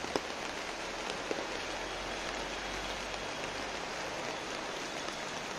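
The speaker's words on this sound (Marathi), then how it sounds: "पाऊस आहे, अंधार पण पडलाय." Steady rain falls outdoors at night in a dense, even hiss, with a few louder drops close by and no talk.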